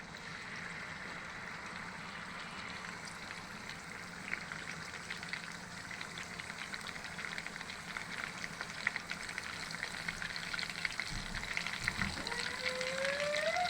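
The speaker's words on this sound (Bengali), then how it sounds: "তেল গরম হয়ে গেছে, এখন এর ভিতর মাছ দিয়ে দেবো।" Hilsa fish frying in hot oil in a pan gives a continuous soft sizzle and crackle that grows a little louder toward the end, with a brief clatter near the close.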